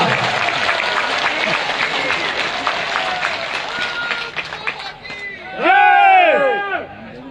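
A crowd at a pension rally in Srinagar, Uttarakhand claps for paramilitary forces, a dense wash of applause with scattered cheers that fades, and then a loud amplified voice takes over near the end.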